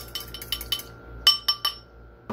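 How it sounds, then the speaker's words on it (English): Egg being stirred in a bowl for low-carb French toast, a utensil striking the bowl in a handful of sharp, close clinks, three quick taps, a short pause, then a few more. "You got an egg inside a bowl. Shake it up, stir it up, do whatever the hell you want to it."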